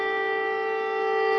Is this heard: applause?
no